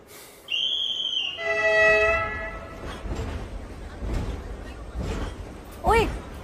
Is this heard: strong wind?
no